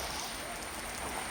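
Steady rain falls outdoors in a broad, even hiss of dense drops, close and continuous for a brief moment, with no voices heard.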